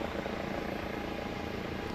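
A helicopter flies near Perot Field at Alliance Airport at night, a faint, steady distant rotor drone with a continuous low throb and no voices.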